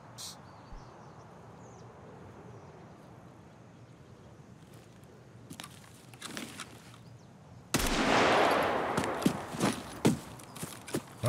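Suppressed SKS rifle fire in the Escape From Tarkov shooter game: a quiet stretch of footsteps and ambience, then a loud cluster of muffled sharp shots and impacts in the last few seconds.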